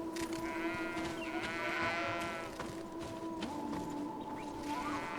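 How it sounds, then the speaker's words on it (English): Sheep bleat repeatedly in the video game Greedfall, several wavering cries rising over a steady ambient game hum, fairly close and alone without talk. "And what kind of creatures are these? Sheep."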